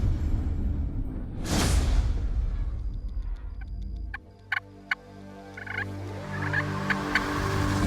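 A wild Rio Grande turkey gobbles in South Texas brush country, one loud rattling gobble near the start, then quieter outdoor sounds with a few sharp clicks and distant bird notes.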